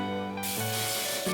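Hairspray hisses out of a can in a steady burst lasting about a second, with a low hum and tone underneath.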